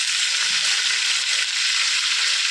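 Curry leaves sizzle in hot oil for a Kerala-style roast, a loud, steady, crackling fry that holds constant throughout with no voices.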